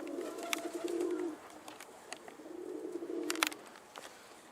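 Soft, low pigeon cooing in two drawn-out phrases, with a few sharp clicks and rustles scattered around them in a quiet space.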